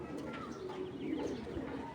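A male Hurricane pigeon coos close by in soft, repeated low calls, with faint chirps and light background noise.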